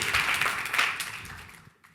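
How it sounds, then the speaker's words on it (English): Audience applause at a Finding Dory press conference with Ellen DeGeneres and Andrew Stanton, a dense burst of clapping that stays loud and steady before thinning out and fading near the end. "please give a warm round of applause"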